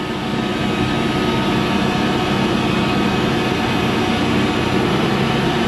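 A planter tractor's engine throttled up, a loud, steady, low roar that holds at one level from start to end with no talk.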